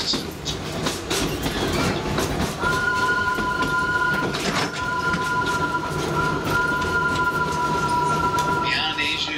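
Wildlife Express passenger train at Animal Kingdom, Walt Disney World, rumbles steadily along the rails with clattering wheels and a sustained metallic squeal as it rolls, with a narrator speaking over it.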